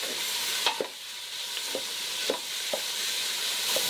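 Garlic, onions, tomatoes and ginger sizzle steadily in a pan for Bicol Express, with a bright, constant hiss. Light spatula scrapes and stirs break through at irregular intervals.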